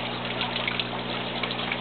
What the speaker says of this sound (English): Just so I can see the water flow heading back to the tank.